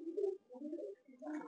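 Malwai pigeons cooing in a loft, a few soft low throaty coos in short phrases, close and quiet with no talk.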